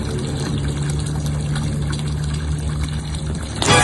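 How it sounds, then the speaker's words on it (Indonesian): Tap water runs in a steady, loud stream without a break, with a brief louder splash right at the end. "eta mah cai keran tadi. cai keran."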